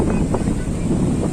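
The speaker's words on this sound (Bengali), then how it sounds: "পুরো সমুদ্র পুরো উত্তাল" Rough, stormy sea surf on a Saturday high tide roars continuously, loud and close, with heavy wind buffeting the microphone; no distinct individual wave breaks stand out.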